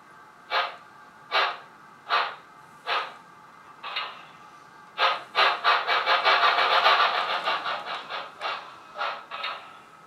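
Model steam locomotive sound from a Tsunami steam decoder, its chuffs starting as separate evenly spaced puffs and then quickening into a rapid continuous run before easing slightly, heard alone without talk.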